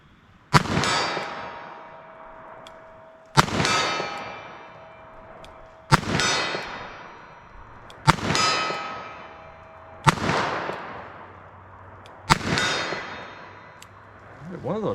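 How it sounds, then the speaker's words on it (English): Six slow, evenly spaced .38 Special revolver shots ring out at a range, each a sharp crack followed by a ringing clang from a steel target that decays over about two seconds before the next shot. "So I'm just gonna fire slow and see if I can hit the target"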